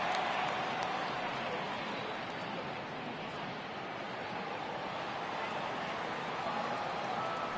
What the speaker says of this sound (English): the home crowd seems a little restless